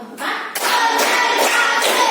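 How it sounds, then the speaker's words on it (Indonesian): A group of participants at an Indonesian school session claps together in a patterned rhythm, the bursts close and fairly loud, with brief pauses between counted sets. "Tepuk 1, tepuk 2, tepuk 3,"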